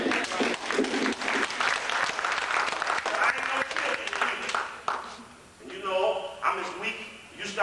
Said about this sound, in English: you start applauding